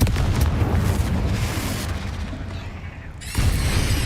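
A Bombarda spell in Hogwarts Legacy goes off with a loud booming explosion that rumbles and decays, followed by a second burst near the end.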